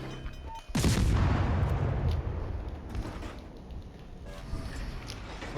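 A deep, booming naval gun salvo firing HE shells in World of Warships Legends, from a Furutaka cruiser battle, bursts out suddenly. Its rumbling tail fades slowly, with a few softer distant thuds after it.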